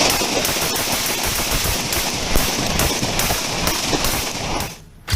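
Dense rapid gunfire during a police arrest, many shots crackling in quick succession, loud and harsh throughout before a brief lull and one more burst at the end.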